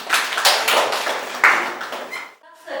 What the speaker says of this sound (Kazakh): Өте жақсы, шапалақтаймыз